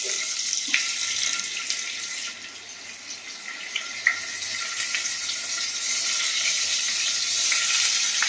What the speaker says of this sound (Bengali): এবার পনিরগুলো ভেজে নেবো।